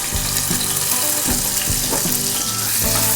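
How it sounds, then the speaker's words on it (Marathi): Cumin seeds and plenty of garlic cloves fry in hot oil for dhaba-style lasun methi, a loud, dense, continuous crackling sizzle heard up close with no talking. "तेल आता गरम झालेलं आहे त्याच्यामध्ये आपण थोडं जिरे घालणार आहोत आणि लसूण मेथी म्हणून लसणाच्या पाकळ्या जास्त घेणार आहे"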